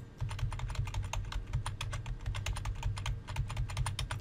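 Computer keyboard arrow keys are tapped in a quick, uneven rhythm, a run of light clicks close by with a low hum beneath.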